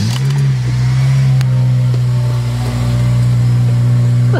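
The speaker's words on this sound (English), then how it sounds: "Here we go. Cold start." A car engine cold-starts and revs at a classic car meet. It settles into a loud, close, steady idle with a strong low hum, and a rev swells near the start.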